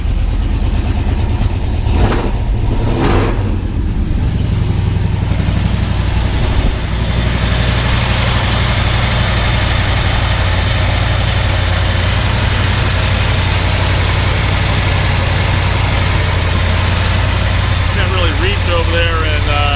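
A 1977 Dodge W100 Power Wagon with a 440 V8 running after a shot of ether, a loud, steady, rumbling idle with low harmonic drone throughout and some voice faintly mixed in.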